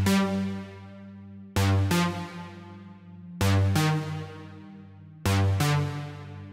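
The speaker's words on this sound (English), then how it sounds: "here I've got this synth sound that sounds like this" A synth plays sharp-attacked chord stabs in repeating pairs with pauses between phrases, each decaying quickly, clean and close with no talking.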